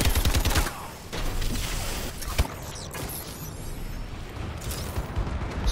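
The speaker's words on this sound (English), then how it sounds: "Friendly bombing run incoming." Friendly bombing run in a Call of Duty Advanced Warfare team deathmatch: a rapid string of loud blasts opens, followed by rumbling roar, sharp cracks and scattered gunfire that continue through the rest, with no voices.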